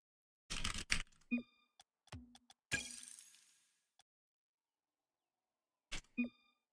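Rapid bursts of clicky typing on a computer keyboard, dense clusters of keystrokes separated by short pauses and a few isolated taps, close and alone with no talk.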